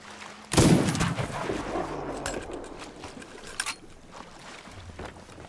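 A sudden loud gunshot in the pirate game Sea of Thieves, followed by a decaying boom and a few fainter scattered shots and clanks, with no talk.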